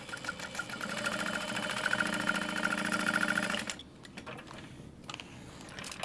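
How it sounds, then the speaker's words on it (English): A sewing machine runs steadily for several seconds top stitching a bag, a fast even mechanical whir, then stops, leaving quiet room tone with faint handling noise. "I'm just gonna clip it along the top and flip that out and top stitch all the way down."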